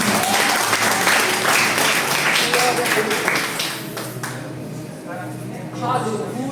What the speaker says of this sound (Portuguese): Aplauda o Senhor enquanto eu bebo água em nome de Jesus